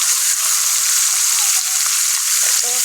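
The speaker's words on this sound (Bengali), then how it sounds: "সব মাথাগুলো দিচ্ছি এই যে তেল গরম হয়ে গেছে" Fish heads frying in hot oil, a steady loud sizzle that runs without a break, with faint scraping or stirring near the end.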